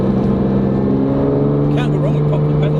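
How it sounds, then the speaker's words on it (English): A Lamborghini Diablo SV with a naturally aspirated V12 and no catalytic converters or silencers idles nearby. It gives a loud, steady, deep droning rumble with a few faint, brief higher sounds layered over it. "The days of naturally aspirated V12 engines with no sort of cats or silencers"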